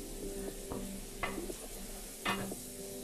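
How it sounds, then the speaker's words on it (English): Spices stirred into a sweet potato mixture in a pan: a quiet, soft sizzle broken by a few scraping spoon strokes, with two stronger swipes near the end. "So now we're just going to really stir these flavors in and spices."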